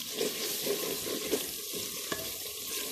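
Masala with whole green chillies on their stems frying in a pan for aloo kofta curry, a bright continuous sizzle with a few soft spoon stirs and one sharp clink, close up with no voices.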